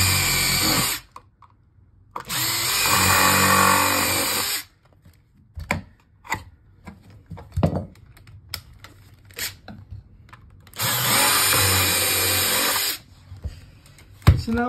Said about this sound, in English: now I can drill it